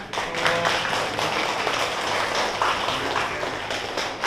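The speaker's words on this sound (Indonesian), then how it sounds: "Oke, tepuk tangan." A class of students claps in a classroom, a busy, fairly loud patter of hands that holds steady for a few seconds.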